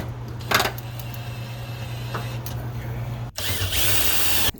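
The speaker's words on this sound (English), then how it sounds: "I'm gonna place the sheet metal screw right back there. Self-tapping" A power drill drives a self-tapping sheet metal screw during an Elkay drinking fountain repair, with a low steady motor whir, a brief click, then a louder, harsher spinning burst as the screw bites before stopping abruptly.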